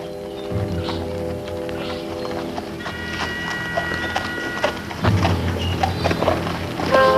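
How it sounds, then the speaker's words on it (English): Horses clip-clop at a walk through a scene from a western drama, their hooves tapping steadily at moderate distance beneath a sustained musical score. "Take the horses to the barn"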